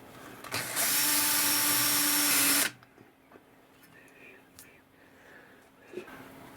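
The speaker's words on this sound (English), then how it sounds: "Now first of all, I'll just centre drill where I want the hole." A power drill whines loudly and steadily for about two seconds, centre-drilling a hole in metal on a Boxford lathe, then stops, leaving quiet workshop clicks and faint handling noises.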